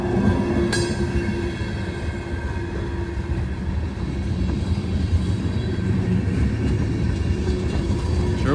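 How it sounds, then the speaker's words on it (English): A long freight train of over 100 cars rolls past on snowy tracks with a continuous loud rumble and rhythmic clatter of wheels. A faint squeal rises near the start. "Sure was glad to see this train show up."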